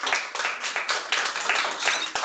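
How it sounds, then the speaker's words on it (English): A round of applause for a student's presentation fills the room, dense, continuous clapping from an audience at steady volume throughout. "Could you please give me another round of applause?"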